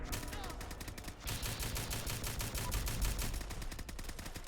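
M4A1 rifle from a modern weapons mod fires in Fallout 4 as a dense run of rapid, loud automatic shots, nearly continuous with a short break near the start, alone without talk.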